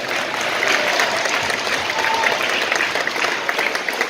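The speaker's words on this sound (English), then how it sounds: "Let's give him a big round of applause" An audience at a talk gives a loud, sustained round of applause, dense even clapping that holds steady throughout without any talking.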